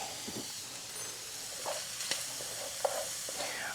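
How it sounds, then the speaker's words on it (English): Shrimp, onions and bell pepper sizzle and hiss steadily in a hot pan as it is deglazed, with a few soft stirring scrapes. There is no talking. "I just use just a little bit to deglaze my pan"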